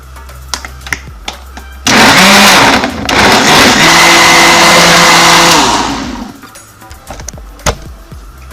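A Smoothie Junior SJR400B blender runs on its low cycle making a smoothie with orange juice, a loud close whirring motor that starts abruptly, holds steady for about four seconds with a slight dip, then winds down, with clinks before and after.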